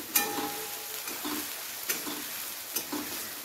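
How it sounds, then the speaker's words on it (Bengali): Onions frying lightly in a pan for chicken kosha, with a soft continuous sizzle and a few sharp scrapes of a spatula stirring at irregular intervals, close up and without talk. "প্রথমে পেঁয়াজটাকে হালকা করে একটু ভালো করে ভেজে নেব।"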